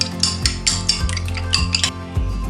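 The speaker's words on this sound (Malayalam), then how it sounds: "ഇനി നമുക്കിതൊരു സ്പൂൺ ഉപയോഗിച്ച് നല്ലപോലെ ബീറ്റ് ചെയ്തെടുക്കാം." A spoon beats egg white in a bowl with quick, rhythmic clinks and taps, loud and close, repeating about twice a second with no talking.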